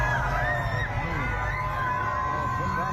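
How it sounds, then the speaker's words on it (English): A street crowd in Atlanta cheers for Donald Trump as he leaves after his mugshot, a continuous wash of shouts and chattering voices, fairly close and steady throughout. "People out in the streets cheering for Donald Trump."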